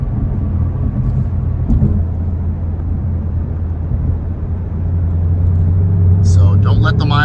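A 2015 Roush supercharged Mustang GT heard from inside the cabin, its engine a loud, steady low rumble that swells slightly with a light press of the throttle at highway speed, with a voice talking over it.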